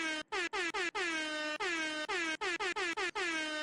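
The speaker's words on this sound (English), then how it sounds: "We're going to do an air horn for that one." A loud, blaring air horn blasts in a rapid series of short honks, each tone cutting off and restarting in quick succession.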